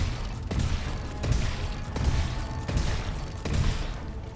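Grenade blasts in the video game Steelrising, a series of muffled booms recurring about every second amid continuous rumbling combat noise.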